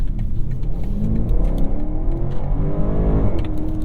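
A 2021 BMW Alpina XB7 SUV accelerates hard on a test drive, its engine revving loudly and climbing steadily in pitch through the run, steady and close with no voices over it.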